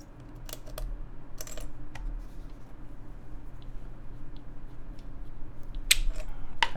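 Keycaps are pressed onto a Norbaforce Data Pad keyboard during a build, giving scattered sharp plastic snaps and clicks over a steady low room hum.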